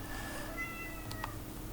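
A kitten gives a couple of short, faint meows over a quiet background hum.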